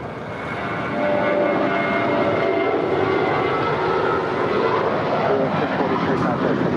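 A United airliner takes off from runway 25 right at LAX, its jet engines building into a loud, steady roar that holds strong and close.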